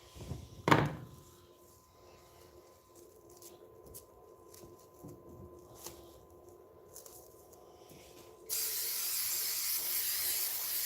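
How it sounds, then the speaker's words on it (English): A spray can of napalm coating hisses in a long, steady burst near the end over a guitar pedal, after a sharp thump and quiet handling noises. "I'm not spraying the entire pedal down"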